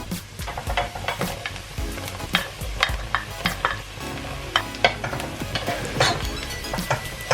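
Mushrooms sizzling in a pan for tuna carbonara, stirred with a utensil that scrapes and clicks against the pan in irregular strokes, close and clear over a steady frying hiss.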